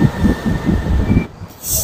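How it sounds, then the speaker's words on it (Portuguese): A São Paulo metro train rolls past a station platform with a low rhythmic rumble and a faint high whine, then the sound drops away before a brief hiss rises, no speech heard. "Olha o metrô passando aí, ó."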